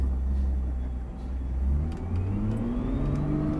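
A Nissan GT-R engine revs hard under acceleration at Dreux, a loud, close, continuous roar whose pitch climbs steadily after a brief dip.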